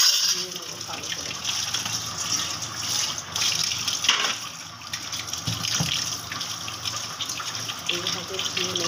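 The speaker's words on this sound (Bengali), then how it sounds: "এইভাবে ধুয়ে নেবো ভালো করে চিকেনটাকে।" Raw chicken washed by hand under running water, a steady close gush from a tap with occasional splashes and clinks. The water runs continuously throughout.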